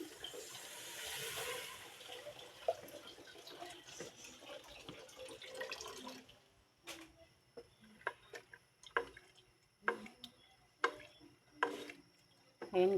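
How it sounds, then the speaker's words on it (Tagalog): Water pours into a cooking pot of mung bean stew with tofu and deep-fried pork, a steady rushing splash for about six seconds, followed by quieter scattered clinks and taps. "At maglagay na tayo ng tubig."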